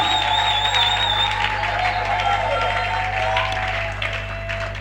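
A church congregation applauding for Jesus, producing a steady wash of clapping and crowd noise over a low hum, with a sustained tone droning through it.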